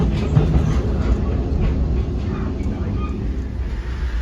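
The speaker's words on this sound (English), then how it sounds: "right in front of us is an Amtrak Hiawatha train coming from Milwaukee" An Amtrak Hiawatha passenger train from Milwaukee rolls past close by, a steady loud rumble of wheels and cars with faint clatter throughout, no pauses.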